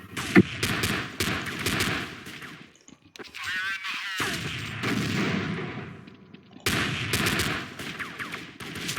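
Rapid bursts of gunfire in the video game Counter-Strike: Classic Offensive, loud and sharp, in clustered volleys broken by a short quieter stretch midway before firing resumes.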